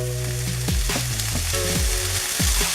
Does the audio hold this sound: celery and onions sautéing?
yes